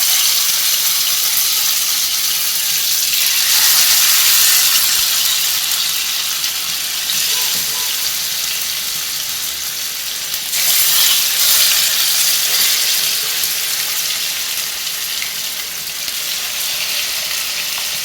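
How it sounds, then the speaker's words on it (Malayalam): Chicken pieces go into hot oil and fry with a loud, continuous hiss and crackle that swells when more pieces drop in, steady throughout with no talking. "നമുക്കിനി ഓരോ കഷ്ണം ചിക്കൻ എണ്ണയിലേക്ക് ഇട്ട് കൊടുക്കാം."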